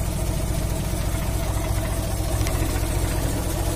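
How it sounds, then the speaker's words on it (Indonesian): An old car's engine idles steadily after starting, with a low, continuous rumble that holds at an even level throughout, near and alone. "Mesinnya telah nyala."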